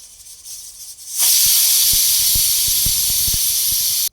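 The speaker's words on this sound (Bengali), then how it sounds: "বসায় দিলাম সিটি ওঠার জন্য এখন আমরা অপেক্ষা করব দেখুন কিভাবে সিটি উঠে যাচ্ছে" A pressure cooker of beef lets go a sudden loud, sustained whistle and hiss of steam after a quiet start, staying steady for about three seconds before cutting off abruptly.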